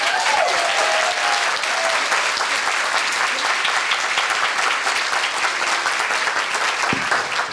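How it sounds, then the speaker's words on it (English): An audience at a children's summit applauds the servers with steady, full clapping that continues evenly throughout without voices. "could we just have a quick round of applause for our servers?"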